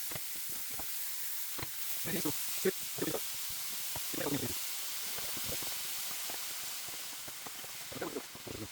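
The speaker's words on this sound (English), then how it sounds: "Now I will brown the ground turkey." Ground turkey browns on high heat in a pressure cooker set to sauté, a faint, soft sizzle and hiss broken by stirring clicks, with a voice heard now and then.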